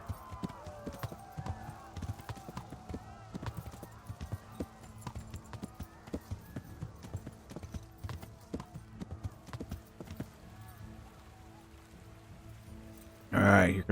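Horse hooves clip-clop in a steady walking rhythm across the Kingdom Come: Deliverance game world, close and clear, with someone talking over them and a louder burst of game sound at the very end.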